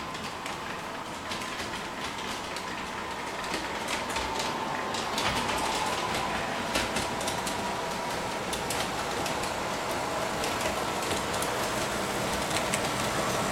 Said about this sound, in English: Train leaving College continues west, passes Newcastle Station.